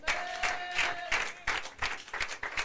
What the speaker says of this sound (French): Donnons une acclamation à Jésus.